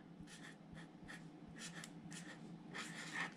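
Pen on paper as a sea lion is drawn, soft, close scratchy strokes in short bursts that build into a longer scribble near the end, with no voices.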